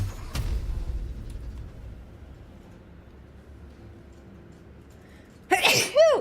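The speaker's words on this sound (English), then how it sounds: "If I could stop sneezing, that'd be great." A sharp sneeze bursts out near the start, then after quiet background hum comes a second louder sneeze with a voiced exclamation near the end.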